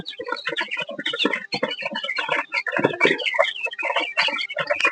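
Chickens and roosters cluck and chatter busily while eating their evening feed on a poultry farm, a dense, close overlapping chorus of short calls with no talk.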